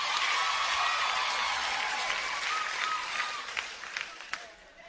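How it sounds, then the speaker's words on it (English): Women in a stand-up comedy audience clapping their hands, a broad wash of applause and crowd noise that thins out toward the end into a few sharper individual claps. "So, ladies, if you feel like you look good tonight, clap your hands, ladies."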